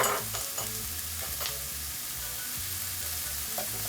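Ginger and garlic gently sweating in a pan give a steady soft sizzle, with occasional light stirring clicks and scrapes close by, no voices.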